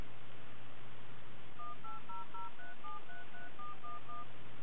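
A run of DTMF touch-tones dialed through the built-in speaker of an Apple Newton MessagePad, brief beeps in an uneven sequence over a steady low hum, with no talking.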